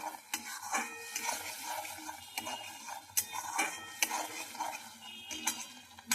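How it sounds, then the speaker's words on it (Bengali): A spoon stirs boiled potatoes with chilli powder, salt, turmeric, ginger, garlic and onion in a pan, making repeated close scraping and clinking strokes against the metal over a light sizzle, with no talking. "ভালো করে কষিয়ে নেব"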